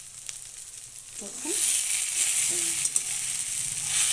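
Taro leaves and chickpeas frying in a wok, a steady hiss of oil that swells louder after the first second and a half, with a brief spoken word over it.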